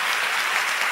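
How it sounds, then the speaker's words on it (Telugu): Church congregation clapping their hands together in a dense, even burst of applause, loud and close, with no voices standing out. "చప్పట్లు కొట్టి దేవుని మయంపరుచుకో."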